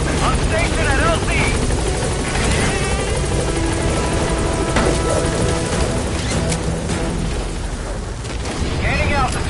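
Helicopter in the video game Metal Gear Solid V gaining altitude, a loud, steady rotor roar with rumbling mixed in that fills the whole stretch, with game voices present alongside.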